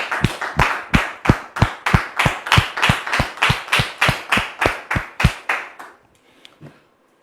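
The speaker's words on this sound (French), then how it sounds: "On le reçoit, s'il vous plaît, avec vos applaudissements." A studio audience on a Christian talk-show set claps in unison: about sixteen loud, evenly spaced claps at a steady tempo, then the clapping stops abruptly and near silence follows.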